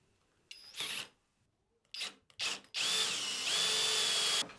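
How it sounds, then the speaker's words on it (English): A power drill widening a hole in a BC Rich Kerry King Flying V guitar whirs close up in a few short bursts, then runs steadily for a couple of seconds, with some clatter between. "I just need to widen up that drill hole just a touch"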